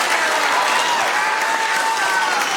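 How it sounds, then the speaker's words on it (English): A round of applause for Sarah at a Sacramento city council meeting, steady, full-room clapping that stays dense and even throughout with voices murmuring underneath. "let's give a round of applause to Sarah for all that she"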